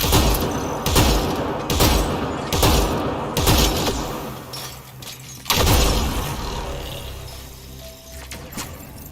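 Gunfire in the video game Mass Effect Andromeda: a series of loud, punchy shots and heavy impacts in irregular bursts, each decaying with a booming tail, no talking over them.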